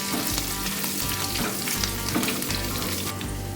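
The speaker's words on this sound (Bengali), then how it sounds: "এবার এই তেলে একটু কালো জিরে আর কয়েকটা কাঁচা লঙ্কা কুচি কুচি করে কেটে ফোড়নে দিলাম" Black cumin seeds and finely chopped green chillies sizzle and crackle in hot oil as a tempering for a jackfruit curry, a steady close-up frying hiss with small pops and stirring, alone without any voices.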